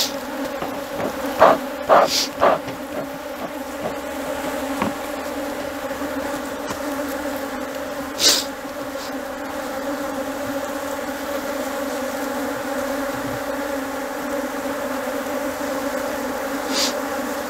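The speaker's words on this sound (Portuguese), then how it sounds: "muito fortes, muito populosas, com muita abelha" Dense, steady buzzing of many honeybees at a strong, populous hive with stacked brood boxes, continuous throughout with a few louder close passes and faint handling noises.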